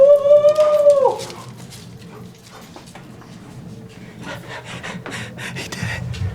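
Dogs whimper and whine in a high, wavering cry at the start, then scuffle about with rubbing and shuffling noises on a hard floor as the whine fades.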